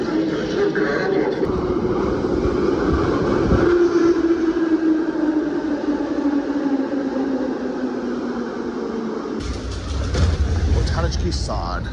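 A Kharkiv metro train rumbles through a station, a loud steady roar with a falling whine as it slows, then a sudden shift to a lower clatter near the end; voices are faintly audible underneath.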